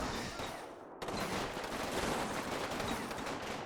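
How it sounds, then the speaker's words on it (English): Explosions and sustained battle noise in the WWII strategy game Combat Mission Final Blitzkrieg, with a sharp blast near the start followed by a dense, continuous rumble of distant gunfire and detonations. "now grenades are going to start going off"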